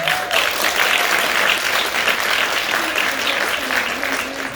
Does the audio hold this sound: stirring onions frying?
no